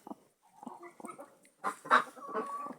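A broody Turkish hen sitting on her eggs gives close, soft clucks and then a louder, drawn-out throaty call, in irregular bursts with no talking.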